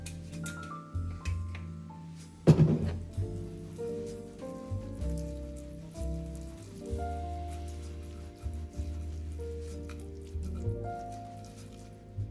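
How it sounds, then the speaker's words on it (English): Meatballs sizzle in a pan with soft spattering and popping, a sharp clack partway through and a faint background hum. "As soon as I start to hear that sizzle, I'll reduce the temperature down to a medium heat."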